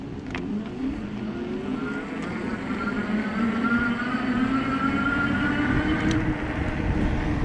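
Sondors MXS electric motorcycle pulling away at full throttle, a rising motor whine climbing steadily in pitch over rushing wind noise, close and continuous.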